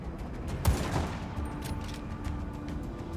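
Gunshots in the video game Just Cause 3 sound as one sharp, fairly close crack followed by fainter scattered pops. A constant rumbling background runs underneath.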